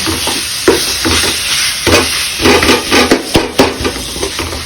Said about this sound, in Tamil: அப்படியே நல்லா லோ ஃப்ளேமில் வச்சு வதக்கி விடுவோம்